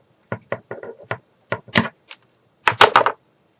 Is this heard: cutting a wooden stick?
yes